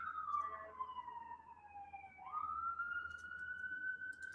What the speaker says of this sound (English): sorry about the ambulance. I actually live in New York City